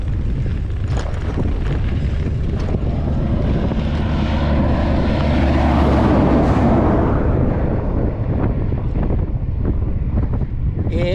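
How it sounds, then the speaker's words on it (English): A large over-width truck roars past a cyclist on an open outback highway near the Nullarbor, its engine and tyre rumble swelling loudly to a peak mid-pass before fading, with heavy wind buffeting throughout. "And here's an over-width vehicle."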